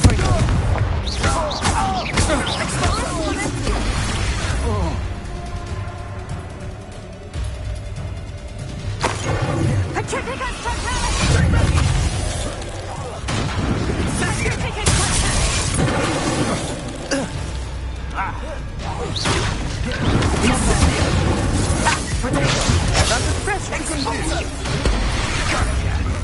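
Fiery Confringo spell blasts in Hogwarts Legacy, a long run of loud booming impacts and crashes amid spell effects, dense and close, with a voice talking over parts of the fight.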